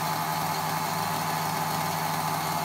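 A moped engine, likely a Solex or Motobécane 103 Vogue at a classic vehicle show, idles steadily and loudly throughout with a continuous buzzing drone and no talk over it.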